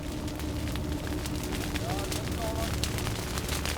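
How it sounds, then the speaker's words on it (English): Fire roars across sugarcane hillsides in KwaZulu-Natal, set alight before the annual harvest. It makes a steady, dense crackling rush that is loud and continuous, with sharp pops scattered through it. "In KwaZulu-Natal, infernos are burning across the landscape."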